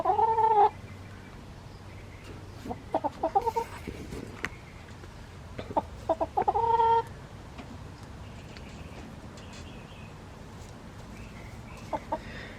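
Backyard chickens bedded on wood chips giving a few short, scattered clucks and squawks at moderate distance over a quiet background, with long gaps between calls.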